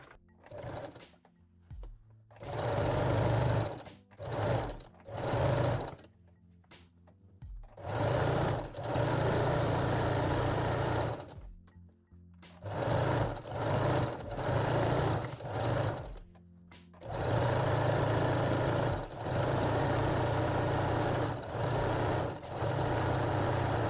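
A sewing machine stitches fold-over elastic onto a thong waistline in a series of stop-and-start runs, short bursts at first, then longer continuous passes, close and clear with brief pauses between.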